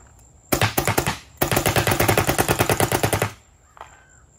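An Emag paintball marker fires in mechanical mode with a new sear, a ci-fi board and a reworked valve: a short burst of sharp, loud pops, a brief pause, then a longer rapid string of evenly spaced shots close by, then quiet.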